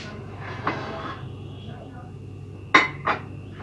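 Dishes and kitchen utensils are put away into a home kitchen cabinet, giving a few light clinks and clatters, loudest near the end, against a low background hum.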